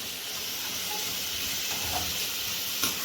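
Sliced onions and green chillies fry in hot oil for egg podimas, giving a steady, even sizzling hiss throughout with one brief louder crackle near the end and no talking.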